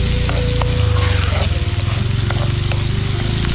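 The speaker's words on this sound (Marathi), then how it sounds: "त्याच्यात कोलबा टाकणार आहे." Cleaned, marinated shrimp drop into a pan of cooked onions on a beach and sizzle loudly and steadily, a dense close frying hiss with faint clinks of stirring and no talk.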